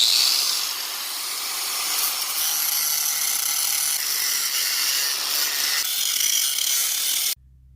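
A harsh, continuous high-pitched grinding as a grinder cuts off metal screws on a Honda Prelude SH during wheel bearing repair, lasting several seconds and cutting off abruptly at the end.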